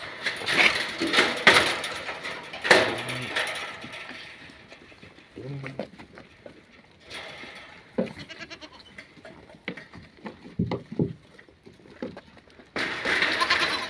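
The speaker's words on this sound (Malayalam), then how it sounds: "വലിയ വലിയ ആടുകളാണ് അത്യാവശ്യം നല്ല വെൽപ്പുള്ള ആട്ടുംകുട്ടികളാണ്" A couple of large goats bleat now and then amid shuffling and rustling in the Medina desert, with a person talking at times.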